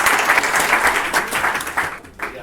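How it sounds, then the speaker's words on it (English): Applause for a speaker at a Jakarta Kubernetes meetup, a short burst of room clapping that thins out and tapers off within a couple of seconds. "applause for Mete"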